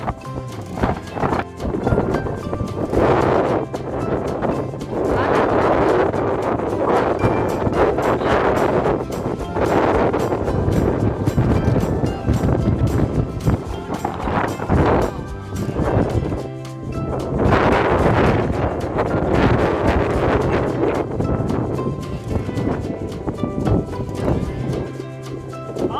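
Strong wind at a dam in Gumla, Jharkhand, buffeting the microphone as a loud, continuous roaring rumble that surges and eases in gusts throughout.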